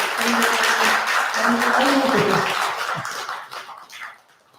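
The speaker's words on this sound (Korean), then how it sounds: "그래도 저렇게 꿋꿋하게 앉아 있는 우리 학생한테 큰 박수 한번 부탁드릴게요" An audience at a Buddhist temple family service applauds a student, a burst of clapping that holds for a few seconds under a low voice and then fades out.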